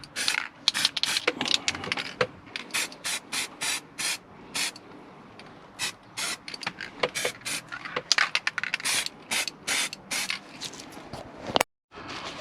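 Short bursts from a spray paint can coating an airsoft carbine with camouflage, a run of hissing sprays of varying length separated by brief pauses, close and fairly loud with no talking.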